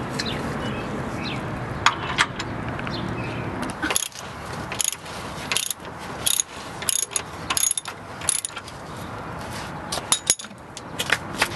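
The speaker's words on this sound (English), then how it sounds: "I'm going to loosen up the drain plug with this wrench" A ratchet wrench loosens the oil drain plug under a car, giving repeated bursts of sharp clicking with brief pauses between strokes and metallic clinks close by.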